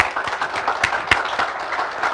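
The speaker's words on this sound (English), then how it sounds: "A final round of applause for our 4 guests tonight." Audience applause at a celebration honoring an undefeated 1973 high school football team, a steady wash of clapping with a few sharper claps standing out, continuous and moderately loud throughout.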